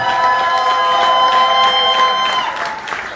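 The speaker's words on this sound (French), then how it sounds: "Est-ce qu'on peut faire un tonnerre d'applaudissements" A crowd at an evening gala honouring women of Congolese theatre bursts into loud applause mixed with cheering and whoops, sustained and close before tapering off slightly at the end.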